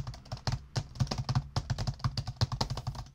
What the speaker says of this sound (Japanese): キーボードを下に布を引いて打つと